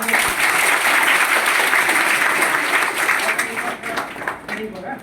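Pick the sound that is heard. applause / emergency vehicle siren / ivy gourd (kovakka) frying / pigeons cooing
applause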